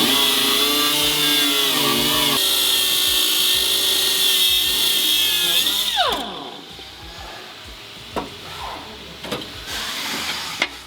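A power tool cuts through the sheet-metal frame of a 1979-93 Foxbody Mustang with a loud, steady high-pitched whine, then winds down after about six seconds, leaving scattered clanks and knocks.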